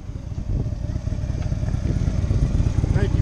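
A Harley Davidson motorcycle engine rumbling at low speed during slow-riding skill practice, a loud, steady low throb that builds slightly toward the end, with voices faintly present.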